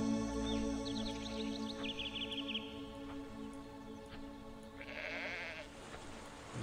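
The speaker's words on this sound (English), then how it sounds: "There's a sheep." A sheep bleats in a few wavering calls over a quiet outdoor bed, with faint bird-like chirps in the background.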